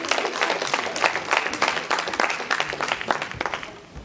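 An audience applauds a Breton bagad band at a bombarde festival, with dense, steady clapping from a crowd that gradually tapers off.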